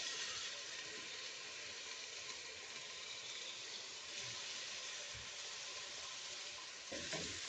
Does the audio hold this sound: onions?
yes